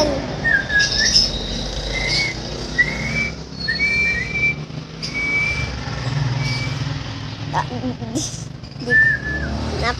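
A child whistling in imitation of a bird tweet, several short, thin whistled chirps scattered over a busy outdoor background with a low vehicle-like rumble and intermittent voices.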